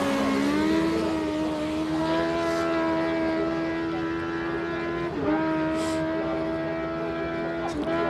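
A Suzuki race car at a hillclimb, its engine a loud, sustained high whine that holds steady and then shifts pitch through gear changes, with commentary voices over it.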